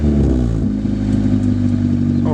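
A manual-transmission car driven by a first-time manual driver gives off a loud, steady engine drone close by, its pitch shifting slightly, with no talk.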